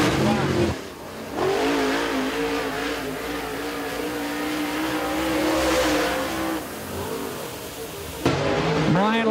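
Race car at a short-track qualifying session accelerates down the main straightaway, its engine roaring and climbing in pitch, loud and close, while an announcer talks over it.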